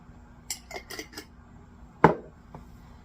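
A spoon stirs brine into an olive burger mixture in a bowl, giving a few quick light clinks followed by one sharper, louder knock against the side, close and alone.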